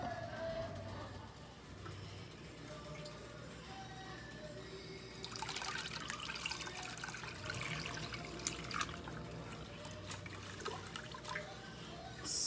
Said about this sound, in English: So I'm just straining my sorrel wine.